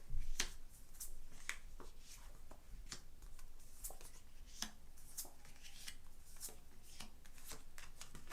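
Tarot cards are shuffled close by for several seconds, giving a steady papery riffle and slap with sharp flicks throughout and no voice.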